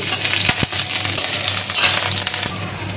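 Chopped green chillies hit hot oil and sizzle loudly and steadily, with a couple of sharp clinks and stirring noises near the start, close by.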